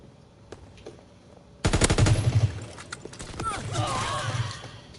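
Rapid bursts of automatic gunfire from a gun in Call of Duty, loud and close, rattling in a dense volley that starts abruptly, then trails into scattered shots and a lower rumble with faint voices underneath.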